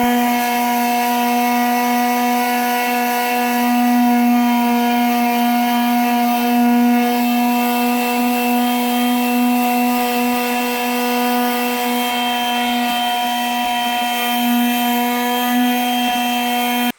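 A power sander strips old adhesive residue off the metal skin of a vintage 1978 Argosy Airstream trailer, a steady, loud, high-pitched motor whine that holds an even tone throughout with faint rubbing texture.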